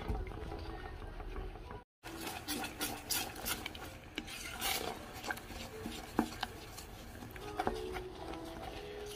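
Tapioca mixture stirred in a pan, with close, soft scraping and rubbing strokes in an uneven rhythm over faint bubbling, interrupted by a brief silent gap.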